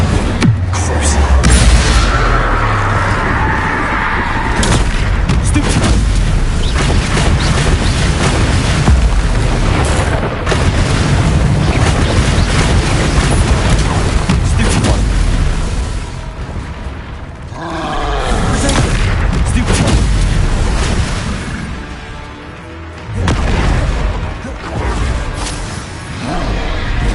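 Spell blasts in Hogwarts Legacy thunder almost continuously, loud booming explosions and bursts with crackling roars layered over one another, and a voice occasionally calls out beneath the din.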